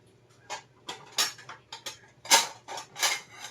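Plates and cutlery being handled in a home kitchen, a series of bright clinks and ceramic taps at an irregular pace, close by and fairly quiet, with a low steady hum underneath.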